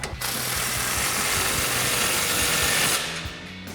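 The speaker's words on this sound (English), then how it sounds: "we're gonna grab our ratchet with a 13mm socket and tighten that down" A hand ratchet fitted with a 13mm socket clicks rapidly and steadily for about three seconds, close and crisp, tightening an exhaust clamp on a RAM 1500 Stillen dual exhaust system.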